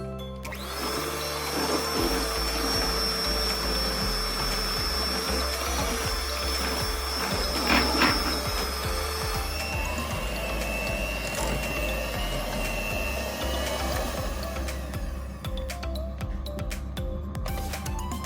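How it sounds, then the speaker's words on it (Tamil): Hand blender whirring steadily through eggless sponge cake batter in a bowl, a continuous close motor drone with slight pitch shifts as it churns, no voices. "ஜஸ்ட் நம்மளோட ஹேண்ட் பிளெண்டர் வச்சுட்டு மிக்ஸ் பண்ணிக்கலாம்."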